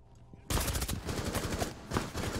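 Rapid automatic gunfire in the video game Rainbow Six Siege, a loud close burst of repeated shots that starts abruptly and keeps rattling on, with game noise underneath.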